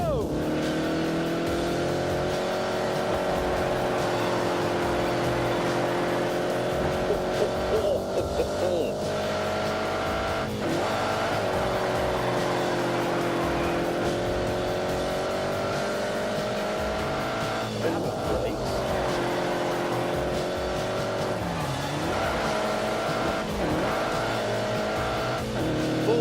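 Race car engine from The Grand Tour Game holds a steady sustained drone throughout, with shifting revs and intermittent tire squeal during slides; loud and close, continuous with no pauses.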